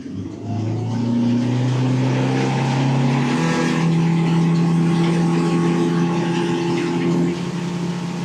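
A Hidea 60 hp EFI outboard motor accelerating a boat, its engine tone rising steadily in pitch as it climbs to speed and then holding a loud, even drone over rushing water.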